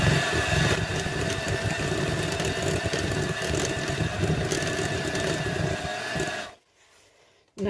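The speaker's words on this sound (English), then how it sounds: "Take my whisk, and again starting on a slow speed, beat it in." An electric whisk beats egg mixture into cake batter for a Victoria sponge, a continuous close, buzzing motor whir with rattling against the bowl that cuts off abruptly near the end.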